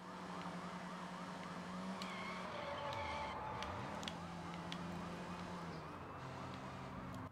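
Police car sirens wail in a chase in the video game Sleeping Dogs, with rising and falling tones looping continuously over engine noise and traffic, steady and fairly loud throughout.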